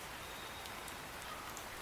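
Steady, even hiss of rain falling, a constant wash of patter with a few faint brighter drops.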